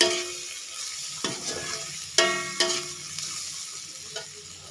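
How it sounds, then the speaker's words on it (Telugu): Freshly ground spice powder fries in a pan for a cauliflower fry, giving a steady close sizzle broken by several sharp scraping stirs of a spoon against the pan. "మనం మిక్సీ పట్టుకున్న పొడి మొత్తం వేసేసి ఇట్లా వేయించుకోవాలండి"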